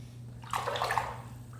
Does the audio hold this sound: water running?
yes